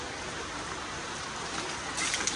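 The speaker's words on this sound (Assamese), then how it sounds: "বৰষুণটো এৰা নাই" Steady rain pours down in a dense, even hiss, with heavier patter picking up toward the end.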